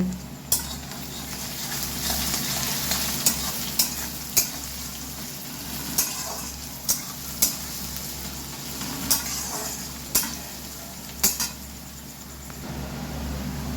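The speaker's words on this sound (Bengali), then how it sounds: "রসুন গ্রেট করা এটা দিয়ে দিচ্ছি, দিয়ে আরও কিছুক্ষণ ভেজে নেব" Grated garlic and onion fry in a pan for a spicy fish-egg fritter curry, giving a steady oily sizzle broken by scattered sharp spatula taps against the pan, close by and with no talking.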